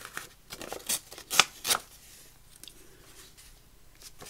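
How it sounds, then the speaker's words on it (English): A sheet of music paper is torn by hand in a few short, sharp ripping bursts close by, followed by quieter rustling as the paper is handled. "let's tear that down straight"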